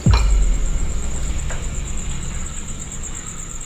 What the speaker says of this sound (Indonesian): Kok ada suara mesin?